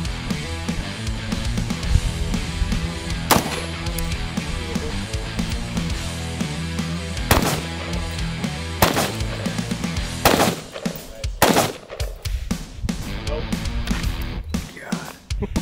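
Rifle fire in 5.56 calibre aimed at a ballistic glass panel: several sharp, loud broadband cracks spread across the clip, some in quick succession near the end, over a dense background of music or noise.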